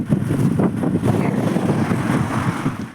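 Strong evening wind in Orikum, Vlorë, Albania, buffets the microphone in a loud, steady, rumbling roar with no other sounds.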